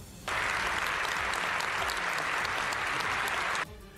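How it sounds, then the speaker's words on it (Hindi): Members of the Canadian parliament stand and applaud together, a dense, loud burst of clapping that starts abruptly, holds steady for about three seconds and cuts off sharply. "और ज़ेलेंस्की के भाषण से पहले कनाडा की संसद में सभी सांसद एक साथ खड़े हुए और तालियां बजाकर उनका स्वागत किया।"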